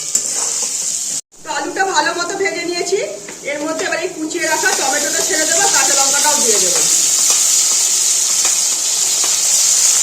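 Dhela fish seasoned with salt and turmeric frying in hot oil, a loud steady sizzle that runs the whole time, with a person talking over it for a few seconds early on.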